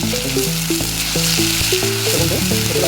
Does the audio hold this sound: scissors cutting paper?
no